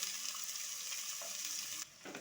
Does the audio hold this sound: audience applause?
no